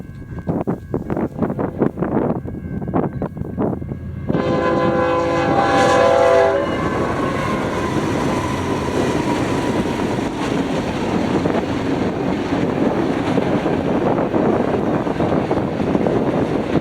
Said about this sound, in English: a westbound manifest heading to San Diego with BNSF 8318 leading, with quite the impressive consist